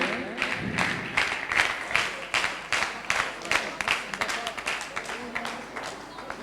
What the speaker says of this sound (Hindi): जोरदार तालियां इस बिटिया के सम्मान में बजाएं